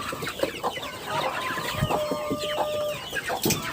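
Chickens and chicks in a farmyard clucking and peeping, several birds close by with frequent short calls overlapping, moderately loud.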